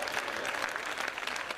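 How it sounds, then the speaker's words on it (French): A crowd applauds the Ouagadougou police, a dense, even wash of many hands clapping, steady and fairly soft throughout. "Ok, on va applaudir pour les policiers ouagalais."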